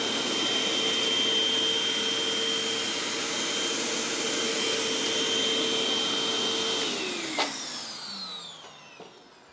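A basic Hoover vacuum cleaner picking up sand, making a steady, loud, close whine with a high tonal hum that holds for several seconds. Near the end the pitch falls as the motor winds down, with a couple of small clicks.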